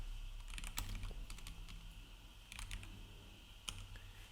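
HTML being typed on a computer keyboard, quick bursts of close key clicks with short pauses in between, quiet and steady over a low background hum.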